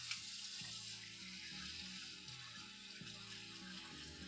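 Tap water runs into a pot as it gets a rinse after cooking crawfish tails, a steady close splashing rush with a low, shifting rumble from the water hitting the pot, with no talking.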